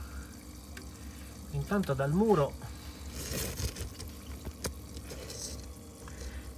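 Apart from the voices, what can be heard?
water flowing from a wall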